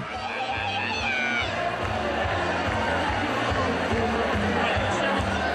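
A dense crowd fills the streets of a festival in Lisbon's Alfama district, a steady loud hubbub of many voices chattering and calling close by.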